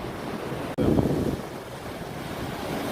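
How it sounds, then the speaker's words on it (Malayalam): Sea surf at the Chavakkad river mouth, where the river meets the sea: a steady broadband wash of waves mixed with wind buffeting the microphone, with a brief swell of louder surge near the start. "ആ കടലിന്റെ തിരമാലയുടെ ശക്തി ആ ഭാഗത്ത് മാത്രമേ ഉള്ളൂ"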